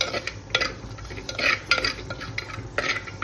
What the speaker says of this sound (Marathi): आणि अर्धा टेबलस्पून किचन किंग मसाला टाकतो. आणि तो आपण चांगला फ्राय करून घ्यायचा.